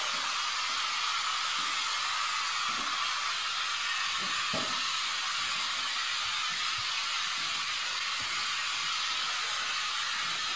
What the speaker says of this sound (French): C'est un bruit blanc.